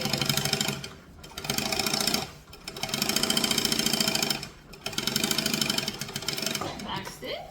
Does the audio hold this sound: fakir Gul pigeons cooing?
no